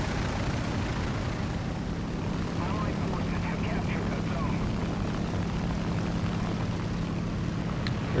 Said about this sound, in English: Heard a plane coming in.